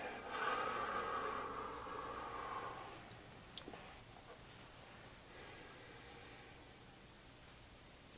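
Slow deep breathing close to the microphone in a quiet ASMR yoga setting, a long soft airy inhale followed by a gentle breathy exhale fading into near silence.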